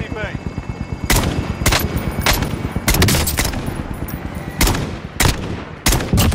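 SKS rifle fire in Call of Duty: Warzone, a series of loud, sharp single shots in an uneven rhythm, some in quick pairs, with game sounds in between.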